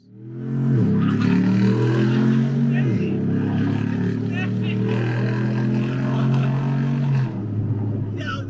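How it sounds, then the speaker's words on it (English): LS3 Corvette V8 engine in an Apocalypse 6x6 Jeep, a loud, close, continuous roar that rises as the throttle opens, dips briefly mid-run and drops again near the end. "now all you want to do is put your foot on the floor because this motor sounds just"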